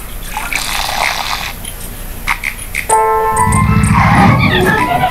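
Watering a sprout in the mobile game Plants vs Zombies 2: a trickling, dripping water effect with bright chimes, swelling into a louder burst of game sound partway through, with no talking.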